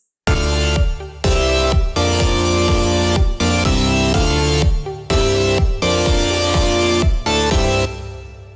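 Electronic synth track with layered chords and a thumping kick drum, playing loud and steady in repeating bars with brief gaps, then fading at the end.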